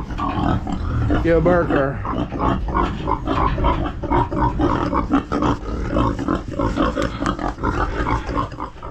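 Free-range pasture pigs grunting and squealing close by in a busy, continuous jumble, with a person talking briefly over them.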